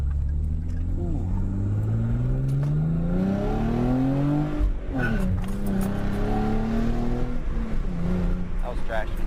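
Hyundai Genesis Coupe with Brembo brakes on a track, its engine droning loud and close with rising and falling harmonics as traction control cuts in and the revs stumble, under excited talk.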